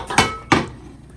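Two sharp metallic clanks of a frying pan being picked up and set down, sounding close in a quiet kitchen and fading quickly.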